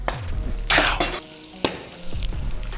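Wagyu A5 intestine sizzles loudly as it fries in a pan, with steady crackling and a few sharp scrapes and clinks of a utensil stirring it, close and without talk.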